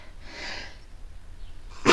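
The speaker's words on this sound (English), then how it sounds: "Sorry, I had to sneeze." A single close sneeze: a breathy inhale, a brief pause, then a sharp, loud burst at the very end.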